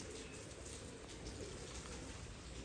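Pigeons kept in a loft, fancy breeds including Teddy, Golden and Black Tiger, coo continuously through faint steady background noise, with no voices.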